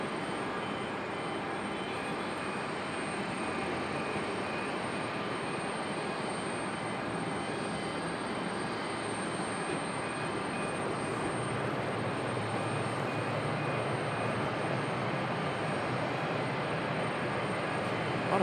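A Lufthansa airliner arriving at Raleigh Durham airport produces a continuous, even jet roar that stays loud and steady from start to finish, with no voices.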